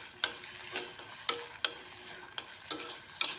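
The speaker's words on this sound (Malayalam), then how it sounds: "എന്നിട്ട് ഒന്ന് ഇളക്കി യോജിപ്പിക്കുക" Beef roast being stirred with tomatoes in a hot pan, with a steady low sizzle broken by several sharp scrapes and clinks of the spoon against the pan, close up, with no voices.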